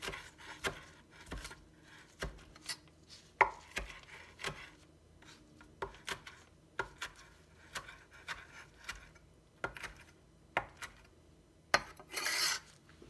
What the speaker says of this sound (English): I'm just gonna roughly chop them